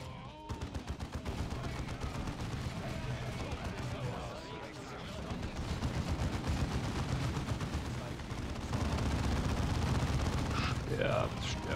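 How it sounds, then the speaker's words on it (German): Dense, continuous gunfire from the strategy game Warhammer 40,000: Dawn of War II roars for the whole stretch, with rapid bursts layered into a thick battle din, and voices come through over the fighting. "Ich schieße schon."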